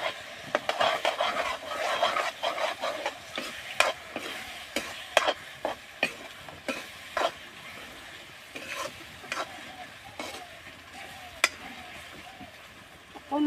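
Ginger garlic paste sizzles in a pan in a soft, continuous fry, broken by repeated scraping strokes of a spoon in an uneven rhythm and a few knocks against the pan.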